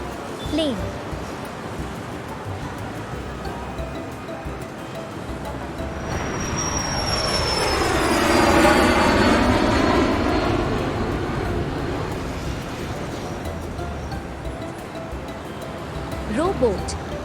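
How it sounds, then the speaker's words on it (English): An airplane passes overhead, its jet roar building gradually from a distant hum to a loud peak and then fading away again. "Plane."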